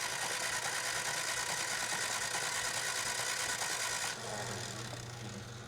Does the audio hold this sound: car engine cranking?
yes